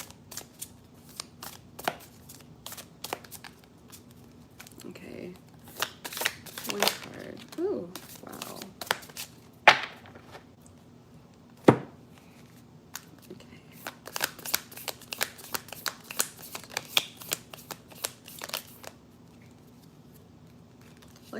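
A deck of cards is shuffled by hand in short bursts of riffling and crisp flicks spread across a long stretch, close and moderately loud, while a person talks intermittently between the shuffles.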